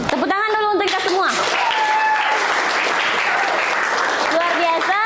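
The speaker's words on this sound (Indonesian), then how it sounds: "Tepuk tangan dulu untuk kita semua." Group applause from students in a school classroom session on bullying, dense steady clapping filling the middle of the clip, with voices speaking over it at the start and end.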